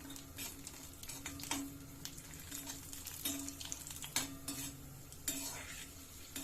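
Cashews frying in ghee in a pan, a steady close sizzle broken by repeated scraping and clinking of a metal spoon stirring against the pan, with no talk.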